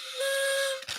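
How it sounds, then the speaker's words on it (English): A sustained, steady whistle tone blown at a fight camp anniversary gathering, holding for most of a second before cutting off into a brief rustle. "these whistles are lame"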